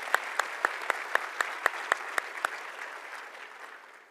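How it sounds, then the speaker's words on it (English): Sparse, near clapping from a conference audience at a software developer keynote, about ten distinct claps in steady rhythm that fade out after a couple of seconds, leaving quiet room tone. "I basically want to give everyone a round of applause for helping with that"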